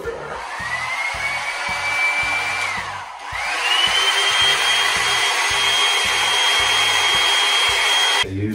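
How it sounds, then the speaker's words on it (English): A handheld blow dryer whirs close and loud with a steady high motor whine, briefly dipping as it is switched or shifted, then running on evenly while used to set a hair system. "quicken that pace a little bit with the blow dryer"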